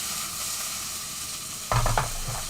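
Onions hit a very hot pan for a duck vindaloo, setting off a steady loud sizzle that swells into a brief burst of crackling and scraping as they are tossed, no voices.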